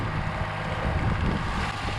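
Steady wind rushes and buffets across an open farm field on a sunny, cool day at rye harvest time, with a constant low rumble underneath and no talking.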